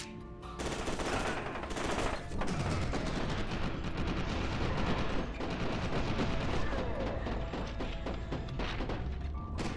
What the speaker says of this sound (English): I like how they stay shooting even though they're dead